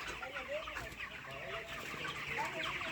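Broiler chickens cluck and murmur continuously on a poultry farm, a dense flock chatter heard at moderate distance with faint background noise and no talking.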